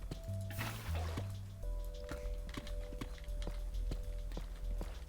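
Water pours from a bucket in the Minecraft video game, a faint liquid splash among game sounds that sound like clip-clopping hooves and soft footsteps.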